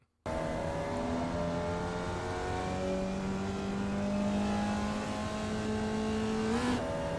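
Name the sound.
Formula Vee race car engine accelerating, iRacing video game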